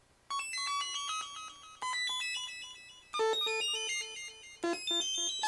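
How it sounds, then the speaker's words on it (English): A homemade synth gadget built on an STM32F4 Discovery board plays a band-limited minBLEP oscillator tone. Bright, buzzy synthetic notes arrive in four distinct phrases, each starting sharply and then sustaining, with no talk. "The sound is produced by a band-limited oscillator based on minBLEP, minimum phase"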